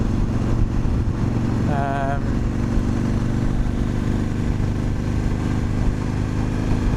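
Motorcycle riding along a road on a commute, heard as a steady, loud engine drone with rushing wind noise that holds constant throughout, without clear shifts or revs.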